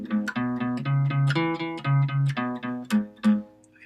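Opening phrase of a tune picked on guitar, a quick run of clear single notes in a bouncy boogie rhythm, played close and alone with no talk.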